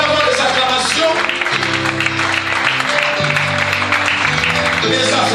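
A church congregation at a Sunday worship service bursts into sustained acclamation and applause, a dense wash of clapping and cheering that carries steadily over held keyboard chords throughout.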